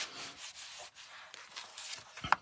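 A folded paper card rubbed by hand to press adhesive down, a steady soft scraping and swishing in repeated strokes, close up with no talking.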